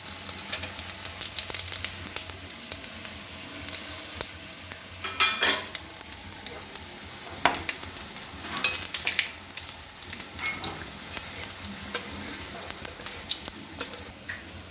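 Cumin seeds and bay leaf sizzle in hot oil for a Bengali prawn dopeyaja, a steady low crackle with occasional louder spits and stirring scrapes, fairly quiet and close.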